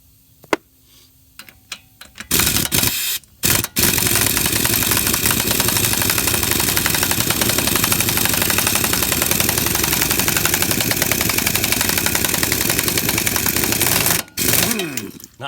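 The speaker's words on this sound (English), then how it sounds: "Not to mention my little air impact is gutless." A small, weak pneumatic impact wrench, fed by a compressor with a leaking fitting, works at a wheel bearing nut on a Ford F100, giving a loud sustained rattling hammer for about eleven seconds between short bursts.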